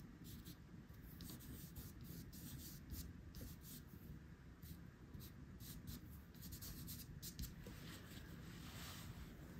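Dry pastel rubbing across textured paper in a landscape drawing, a soft continuous scratchy scraping with repeated short strokes, close but faint, no talk.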